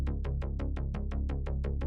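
Layered synth bass built from Zebra and Juno patches, dry and unprocessed, repeating about eight quick plucky notes in a steady even rhythm with bright attacks that fade fast over a warm sustained low end.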